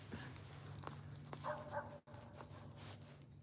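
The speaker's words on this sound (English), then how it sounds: "There's a dad blame dog in my video" A dog gives a few short, faint barks and yips in the distance during an outdoor fishing outing, with a low background hum.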